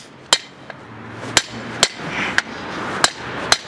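A brass punch is struck with a hammer against a rear disc brake adapter on a dually GMT400 Chevy/GMC pickup, giving about seven sharp metallic whacks at uneven intervals over faint background hum.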